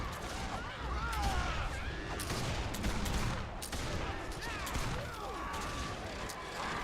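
Fireworks in the Warhammer Online video game crackle and pop in dense, overlapping bursts with whistling streaks, steady and busy throughout over a loud ambient bed.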